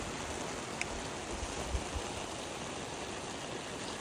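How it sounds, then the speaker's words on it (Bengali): Steady rain falls outdoors, a dense, even hiss filling the background at moderate-to-faint level, with a few soft drip taps and no voices. "এই দেখো কিরম বৃষ্টি হচ্ছে"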